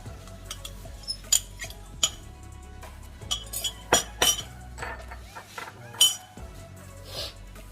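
Wet ingredients for low-carb blueberry frosted muffins being mixed in a bowl, with repeated clinks of a utensil against the bowl and scattered scraping knocks at an uneven rhythm, close and moderately loud.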